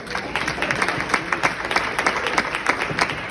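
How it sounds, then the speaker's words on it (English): An audience applauds for union president Jay Ozier at a Black Labor Day event, giving a steady, dense round of clapping that carries evenly for a few seconds with no talk over it. "So let's give him another round of applause."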